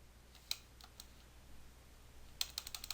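Light typing on a computer keyboard running Windows 8, a single key click, a short pause, then a quick run of several soft, close keystrokes, faint over a quiet room.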